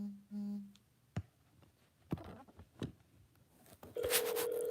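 A telephone being dialed: a short dial-tone beep, then sparse clicks and clunks of the keypad or receiver, ending in a loud sustained ringing tone, close and alone without talk.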